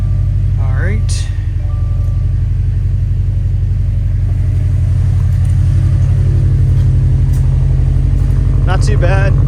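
Engine of a 2019 Subaru STI idling after being started, a loud, steady low rumble throughout with brief higher squeaks and rattles near the start and end.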